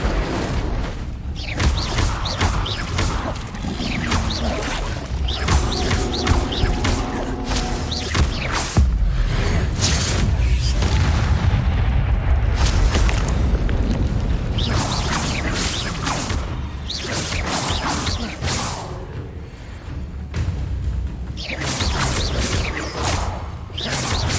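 The Incendio fire spell from the video game Hogwarts Legacy is cast repeatedly amid loud booms, whooshes and crashing impacts, with dense game effects filling the whole stretch.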